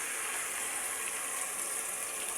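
Water pours into a pan of bangus sardines being cooked, a steady bright gushing hiss that holds evenly from start to finish.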